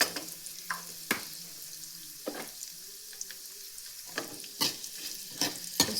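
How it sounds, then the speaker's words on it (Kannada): Mustard seeds, cumin, urad dal, dried red chili and a pinch of asafoetida frying in hot oil for a spinach gojju: sharp, scattered pops and crackles burst over a low, steady sizzle, with no voices. "ಉದ್ದಿನಬೇಳೆ, ಒಣಮೆಣಸು ಎಣ್ಣೆಯಲ್ಲಿ ಚೆನ್ನಾಗಿ ಫ್ರೈ ಆಗಲಿ."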